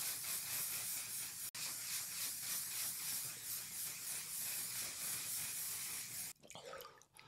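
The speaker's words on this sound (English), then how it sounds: "Back to the one size on Until Dawn setting spray." Until Dawn makeup setting spray hisses from a mist bottle in a steady close spray with a brief pause, ending with a short rustle.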